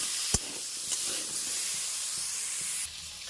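Potatoes with salt and turmeric fry in hot oil, giving a steady close hiss with one sharp knock near the start, and the hiss drops a little toward the end.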